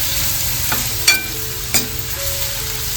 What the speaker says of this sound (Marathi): कांदा, कढीपत्ता घालून घेते.